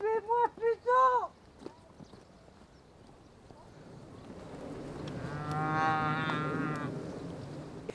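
A cow moos several times in quick short bursts, loud and close, followed by a long rising, strained bellow from the cow, with no talking over it.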